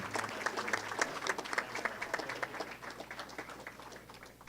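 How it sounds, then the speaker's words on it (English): A Call of Duty esports team is applauded at a college esports awards event, a fairly quiet, steady patter of many hands clapping at a distance, fading slightly toward the end. "one more round of applause for our Call of Duty winners and team"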